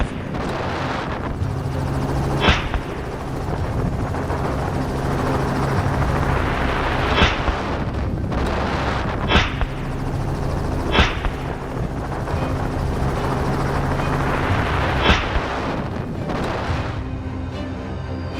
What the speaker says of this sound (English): the helicopter's low altitude to reduce glare caused a lot of noise, which alerted the pigs